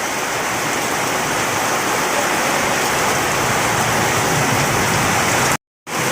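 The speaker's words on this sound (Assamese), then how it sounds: "চাব পাৰিছে গাইছ তামাম বৰষুণ পৰিলে" Heavy rain pours steadily over a village, a dense continuous roar of falling water that stays loud and even throughout, cutting out abruptly for a brief moment near the end.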